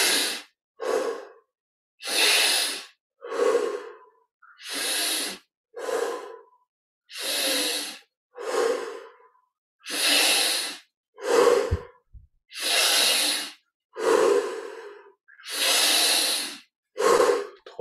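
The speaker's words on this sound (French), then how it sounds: "Prenons encore 10 grandes respires. Un petit peu plus d'intensité, d'amplitude dans chaque respiration." Deep, slow breathing during a guided meditation, about a dozen long inhale-exhale cycles in a steady rhythm, close and clear with breathy hiss and no talking.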